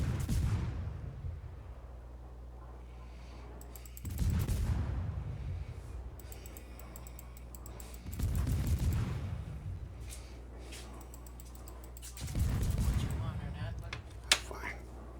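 Heavy naval gun salvos from a Smolensk cruiser in World of Warships, four deep booming volleys roughly four seconds apart over a steady low engine hum, each followed by a rumbling decay and faint crackle.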